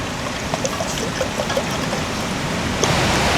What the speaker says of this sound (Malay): Kita tambah air sekarang bagi habis.